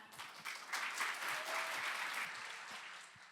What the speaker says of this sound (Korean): 마지막 순서인 만큼 더욱 큰 응원의 박수 부탁드리겠습니다